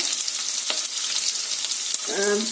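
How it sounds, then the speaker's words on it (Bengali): Onion stirred in a hot pan for chilli paneer hisses with a loud, bright sizzle, broken by a couple of sharp spatula scrapes and a brief clatter near the end. "পেঁয়াজটা দিয়ে কয়েক সেকেন্ড নাড়াচাড়া করে, খুব বেশিক্ষণ না, কয়েক সেকেন্ড আমি নাড়াচাড়া করব"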